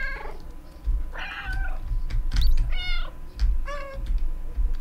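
A cat meows three times at uneven intervals in the video game Stray, each call clear and high, over a steady low rumble and soft clicking.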